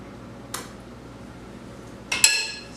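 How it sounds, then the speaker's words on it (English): A metal spoon scoops almond butter, giving two close clinks against a jar or bowl, the second a brighter ringing knock, over a faint quiet background. "So I'm gonna put in about a teaspoon of almond butter."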